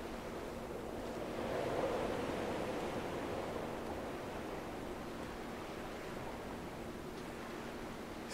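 Gentle sea waves break on a beach in a steady low wash of surf, a slightly stronger swell early on, with light wind around the microphone and no talking.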